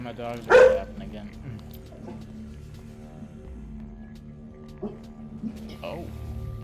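A single loud dog bark rings out early, followed by faint, softer yips or whimpers over a low steady background hum.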